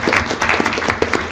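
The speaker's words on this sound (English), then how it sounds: "everyone in this room should give themselves a big round of applause" Attendees at a state commission meeting applaud in a brief, close, dense burst of many hands clapping at once, steady and loud throughout.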